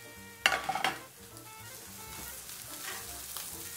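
Steak sizzling in a frying pan, a steady close crackle throughout with a louder burst of clatter and hiss around the half-second mark as the meat is flipped.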